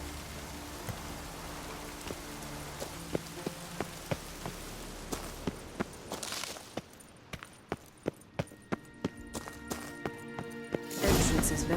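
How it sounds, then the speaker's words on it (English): Steady rain in the video game The Witcher 3: Wild Hunt patters across a surface throughout, with sharp periodic knocks punctuating it and a louder splashing rush near the end. "raining again"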